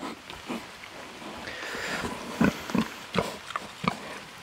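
Pigs grunt and snuffle close by while eating crushed apples under apple trees in the rain, with soft chewing and sniffing sounds in short bursts, fairly quiet.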